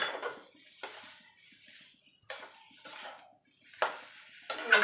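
Potato chop filling being mixed with spices in a pan: a spoon scrapes and knocks against the metal in several separate bursts with quiet gaps between them, close by and clear.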